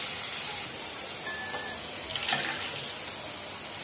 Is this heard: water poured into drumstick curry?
yes